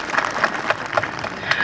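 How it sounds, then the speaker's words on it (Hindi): An audience claps for the chief minister at a yak festival in Lubrang, Dirang, Arunachal Pradesh, a short burst of scattered outdoor applause with crowd noise. "मैं आप सबसे अनुरोध करती हूँ कि जोरदार तालियां हो जाए मुख्यमंत्री साहब के लिए।"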